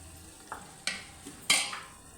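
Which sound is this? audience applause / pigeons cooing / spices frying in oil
spices frying in oil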